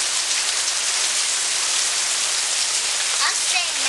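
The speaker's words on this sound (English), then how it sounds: "It's just raining now." Steady rain falls after a hailstorm in a loud, constant hiss, drumming on surfaces close by with no let-up.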